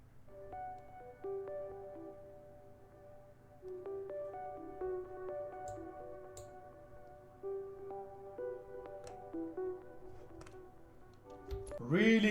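A dreamy melodic sample from Splice plays within a progressive trance track, with soft sustained synth notes stepping through a gentle line at moderate volume, ending in a brighter swell.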